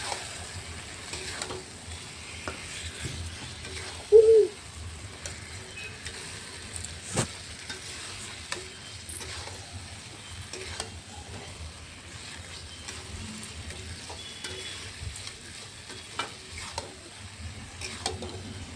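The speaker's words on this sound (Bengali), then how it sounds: "এবারে মাংসগুলান ম্যারিনেট করা মাংসগুলানকে তুলে নেব, তুলে নিয়ে ভালোভাবে কষিয়ে নেব।" Marinated meat is stir-fried in a pan with a low, steady sizzle, under scattered scraping and knocking from a utensil and one brief louder tone partway through.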